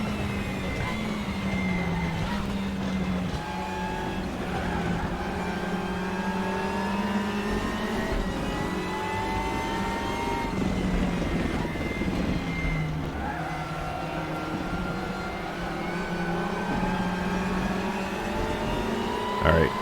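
Steady, loud race car engine droning through a lap in the RaceRoom video game, pitch rising and falling through shifts and corners over twenty seconds, without pause.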